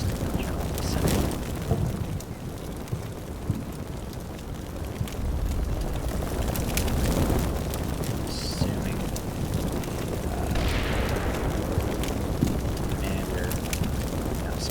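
Incoming artillery shells exploding in the CMFI war video game, Celleno battle: a dense, continuous low rumbling roar with scattered sharper booms and crackling bursts throughout, loud and sustained, with no clear pauses between blasts.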